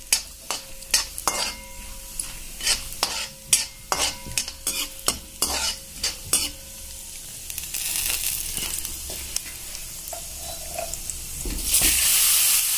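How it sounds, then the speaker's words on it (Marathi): Grated carrot halwa is roasted and stirred in a pan, with a spoon scraping in a steady series of sharp, close strokes over a soft sizzle, then the strokes give way to continuous frying and a rising hiss. "आता आपण हे छानपैकी हलवून घेऊया। इथं आपल्याला छान खरपूस होईपर्यंत भाजायचं आहे।"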